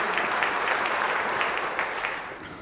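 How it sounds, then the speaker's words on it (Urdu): An audience at a knockout-round religious quiz competition claps steadily for a participant, a dense, even wash of applause that holds for a couple of seconds and then slowly thins out. "تالیاں بھی ہونی چاہیے پارٹیسپینٹ بی کے لیے"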